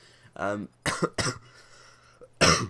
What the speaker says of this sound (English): Sorry guys, I've got a bit of cough.